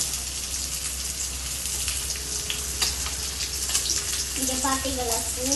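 A pot of fish curry bubbles and sizzles at a steady simmer, with a constant crackling hiss close by and a faint tonal sound near the end.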